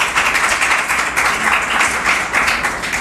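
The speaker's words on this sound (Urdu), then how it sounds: "تالیاں بجائیں پلیز" Steady audience applause at a church talk show, a dense, even patter of many hands clapping close by for a few seconds without pause.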